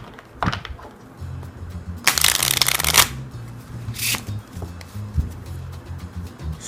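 Playing cards riffle-shuffled by hand in quick bursts of rapid fluttering clicks, with a longer cascading riffle in the middle and soft handling and bridging sounds between.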